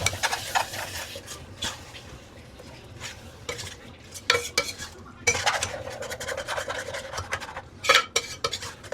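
A spoon stirs and scrapes the stuck bottom of a chicken biryani pot, with repeated rasping scrapes and knocks against the metal in uneven bursts over a low sizzle.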